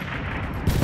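Rapid submachine-gun fire in the Roblox shooter Recoil, a dense, loud burst of overlapping shots lasting under a second, growing heavier toward the end.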